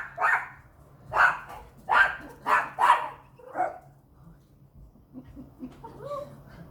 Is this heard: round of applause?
no